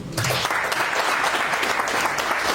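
Loud, dense applause from an audience at a motivational seminar bursts in after a brief pause and holds steady as a continuous wash of clapping.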